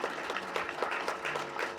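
An audience at a film award ceremony press meet claps together in a steady, moderately loud burst of applause that holds through the short stretch without pause.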